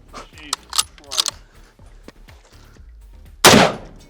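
A single sharp, loud report from a Mosin rifle in 7.62x54R cracks out near the end of the clip, after a few seconds of scattered clicks and voices.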